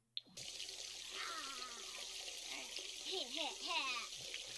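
Water splashing from a faucet in The Sims 4 runs as a steady broadband hiss through the whole clip, with a voice speaking over it.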